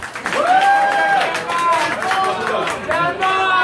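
A comedy club audience cheers and whoops at a stand-up show, with rising shouted voices and scattered clapping forming a lively crowd roar throughout, fairly close and loud.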